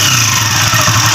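A motorcycle engine idles steadily and loudly up close with a constant mechanical drone, its clutch system wrongly installed and giving an abnormal noise.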